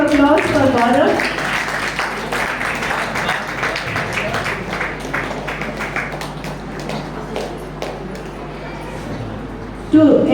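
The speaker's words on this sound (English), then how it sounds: "With a huge round of applause for Gaurav." A school Teachers Day audience gives a guest arriving on stage a dense, steady round of applause that carries on for about ten seconds at high level, with faint voices mixed in.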